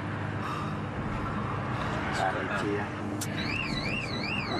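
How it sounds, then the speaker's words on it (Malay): A wavering electronic van alarm starts up partway through, rising and falling in a steady warble over loud outdoor noise and indistinct voices. "Alarm van tu bunyi sekali lagi."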